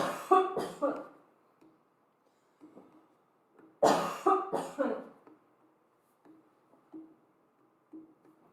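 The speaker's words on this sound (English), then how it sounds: "Coughing is always good." Two bursts of harsh coughing during a Kundalini yoga kriya, each a quick cluster of hacks, separated by quiet stretches with faint murmurs and small throat sounds.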